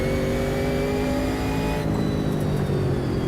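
American muscle car in the Automobilista 2 racing game, a big gurgly engine holding a loud steady drone with a harmonic pitch that drops as the revs fall away, no voices over it.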